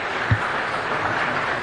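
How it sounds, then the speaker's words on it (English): Capacity crowd applauding guests from CSU Fullerton in city council chambers: even, sustained clapping from many hands at moderate distance, with one brief thump near the start and no talk. "Let's give them a round of applause and thank them for coming here today."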